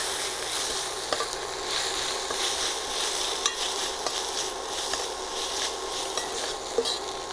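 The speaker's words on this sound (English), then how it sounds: "Let's add in our crushed green chilies, coconut, and garlic. Let's give it a good mix." Crushed green chilies, coconut and garlic stir-fried with translucent onions for an asparagus and moong dal dish: a constant bright sizzle up close, with occasional light clinks of the spatula against the pan.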